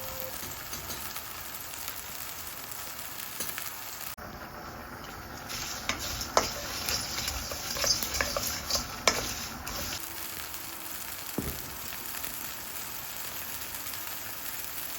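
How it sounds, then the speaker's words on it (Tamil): Continuous bubbling and sizzling from chayote curry boiling with turmeric and salt in a pan on the stove, with occasional scrapes and clinks of stirring partway through. "மஞ்சள் பொடி, உப்பு சேர்த்து நல்லா கொதிக்க விட போகிறேன்"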